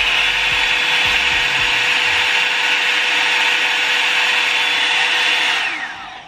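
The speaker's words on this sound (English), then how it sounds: "That's like the high setting on my hair dryer" A Revlon One-Step hair dryer blows on its high setting, a loud, steady high-pitched whir running without a break, then winds down near the end.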